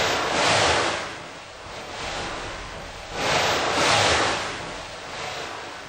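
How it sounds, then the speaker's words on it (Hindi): Sea waves surge in slow, powerful swells, a loud, nearby wash of surf rising and falling about every three seconds, with no one speaking. "है समुद्र उछल कूद के, हे द्वारकाधीश दर्शन दो"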